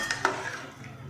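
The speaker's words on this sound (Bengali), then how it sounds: "এবার একটুখানি নেড়ে চেড়ে নেবো যাতে এর মধ্যে ঢুকে যায় ভালো করে।" A spoon stirs vegetarian ol kasundi, elephant foot yam in mustard sauce, in a pan on the stove, giving a couple of quick clinks against the metal and then a soft scraping stir, close and moderately quiet, with no voices.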